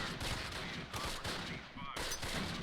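Mortar rounds fire in the WWII strategy game Close Combat Last Stand Arnhem, a dense run of sharp, booming reports in quick succession with rumbling gunfire underneath, loud and continuous.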